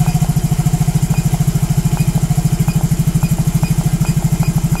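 A Yamaha motorcycle engine runs with its fuel mixture leaned out, a loud, close, rhythmic idle that stutters and misfires steadily throughout.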